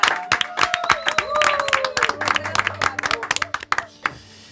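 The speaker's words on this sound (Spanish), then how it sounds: "Ese silencio estaría guay que lo rellenaseis con un aplauso" Audience applause greeting a group's welcome, with sharp, scattered claps that thin out toward the end while voices and a high tone sound underneath.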